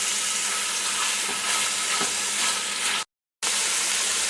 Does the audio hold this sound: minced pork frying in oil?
yes